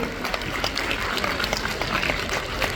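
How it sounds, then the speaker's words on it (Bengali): An audience at a yoga competition claps steadily, a dense patter of many hands, moderately loud, with a voice speaking over the applause. "আরেকটু জোরে হাততালি আশা করেছিলাম আপনাদের"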